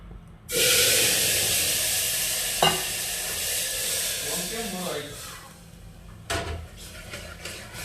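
Soup poured into hot oil for tempering sets off a sudden loud sizzle that settles into a steady hiss, broken by a couple of clanks from a utensil or lid.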